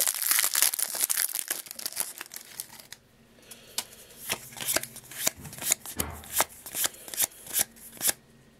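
Magic: The Gathering Aether Revolt booster packs being handled: dense crinkling foil and rustling at first, then a quieter stretch with a regular series of sharp crinkly slaps as packs are tossed down.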